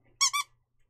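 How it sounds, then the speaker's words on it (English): A dog's squeaky toy gives two quick, loud squeaks back to back, close up, with nothing else around them. "my dog bone, my squeak toy."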